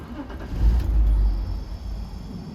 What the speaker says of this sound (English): the car turns on, but I hear a vacuum like psh, under my foot